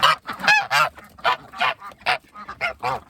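Loud, close duck honking calls repeat in quick bursts, several ducks calling over one another, harsh and nasal, with no talking.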